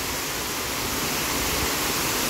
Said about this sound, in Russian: Нам повезло, тут включили водопад.